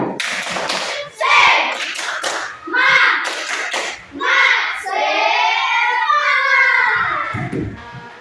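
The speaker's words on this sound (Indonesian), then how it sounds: "Ada tepuk tangan untuk diri kalian sendiri." Children in a classroom clap in short rhythmic bursts, mixed with the chanting voices of the kids and an adult, close and lively.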